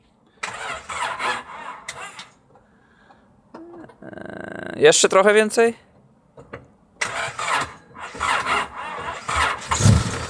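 A Honda Civic engine, freshly swapped to a D16Z6, cranks, then catches and starts with a rising roar, followed by revving, with people talking before and after.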